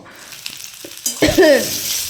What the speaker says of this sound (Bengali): পিঠে ভাজা শুরু হয়ে গেছে